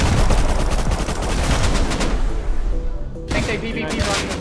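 Heavy gunfire and explosive blasts in a PvP firefight in the survival game Rust, with loud rapid shots and rocket booms crowding together, a brief lull, then another burst, under voice chat.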